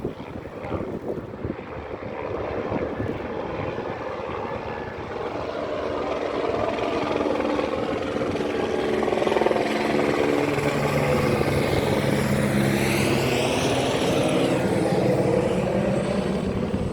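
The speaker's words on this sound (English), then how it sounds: "so this other chopper should be coming up over here now." Firefighting helicopter working a wildfire in Portugal passes nearby. Its rotor and engine roar builds into a loud, continuous drone, with rough wind buffeting on the microphone and no talking.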